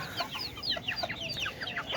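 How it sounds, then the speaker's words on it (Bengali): A lone young chicken chick peeps and clucks in quick, high, repeated chirps, close by and fairly soft, with no voices. "মুরগীর বাচ্চা"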